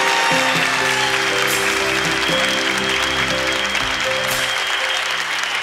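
An audience of about 800 people applauds loudly and continuously, a thick wall of clapping with sustained musical tones running underneath throughout.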